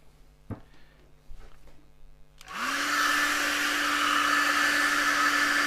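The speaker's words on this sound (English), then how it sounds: "So I have a hairdryer." After a few soft knocks, a hair dryer switches on and then blows a loud, steady whir. It is drying a wet, freshly turned green casuarina wood wobble bowl on the lathe before sanding.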